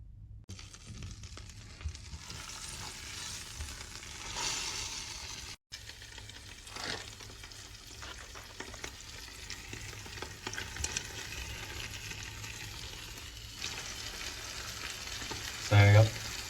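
Meat frying in butter in a pan on high heat, a steady close sizzle with scattered pops and a few clattering knocks near the end, no voices.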